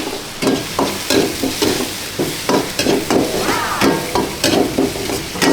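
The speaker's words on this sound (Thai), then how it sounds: "ผัดนี้ให้หอมก่อน" Dried chilies and mala spices stir-fried hard in a wok, with repeated rhythmic scraping strokes over a steady sizzle, loud and close, no talking.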